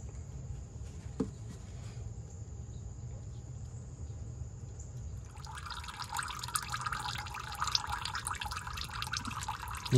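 Used motor oil drains from a car into a drain pan with a faint trickling drip at first, then a brighter, louder splashing stream over the final seconds, close by, over a steady high whine.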